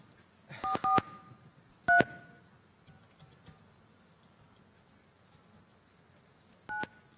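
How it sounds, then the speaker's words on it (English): Telephone keypad dialing tones, a quick cluster of beeps followed by single tones after pauses, crisp and close over a quiet background with no voices. "I'll dial the phone."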